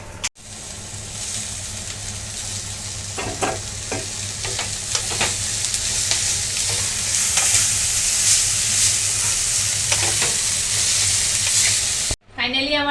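Chowmein frying in a hot pan on a home stove while being stirred, a loud continuous sizzle with intermittent scraping strokes of the spatula, running steadily with no voices, then a brief break near the end.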